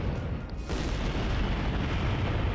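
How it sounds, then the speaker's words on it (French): Deep, rumbling explosions from a video game, Code:Realize ~Guardian of Rebirth~, roll on one after another, loud and continuous, in a dense booming wash with no voices. "Pas juste une, mais une série d'explosions qui continuaient encore et encore."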